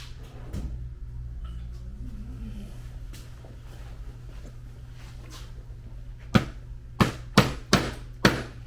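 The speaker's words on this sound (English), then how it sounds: "Apparently I need an actual hammer. Let me get my hammer." Four or five sharp hammer strikes ring out in quick succession near the end, setting a rivet into leather, following a stretch of quiet, low room hum and faint handling noises.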